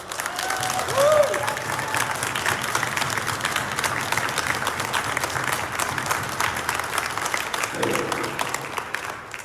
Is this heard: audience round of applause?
yes